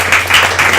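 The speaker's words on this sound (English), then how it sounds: "A round of applause" Audience applause at a mobile marketing meetup in Sydney, a steady wash of clapping that holds at an even level through a short burst, with a low constant hum underneath.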